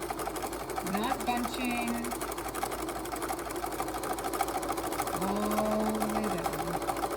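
Sewing machine running a long straight seam with no back stitching, a steady fast mechanical whir and rapid needle clatter, close and continuous, while a person talks over it throughout.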